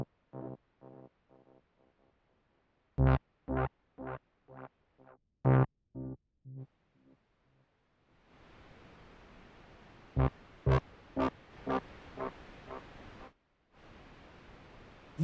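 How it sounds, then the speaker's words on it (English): On the Cherry Audio CAT synth, a run of plucked notes repeats with a tape echo effect, then the repeats play again over a steady hiss of tape machine noise that drops out and returns. "It's a tape echo with the noise of the machine."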